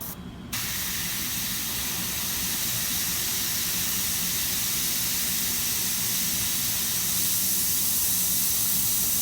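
An airbrush sprays paint for a miniature as a steady, loud hiss close by. It starts after a brief gap and keeps going unbroken for several seconds.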